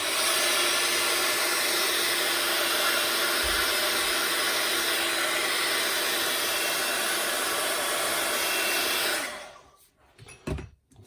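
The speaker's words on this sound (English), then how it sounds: "I'm just going to blast it with my heat tool" Stampin' Up! craft heat tool blowing steadily on damp paper, a loud close continuous whirring hiss held for about nine seconds before it cuts off, followed by faint handling clicks.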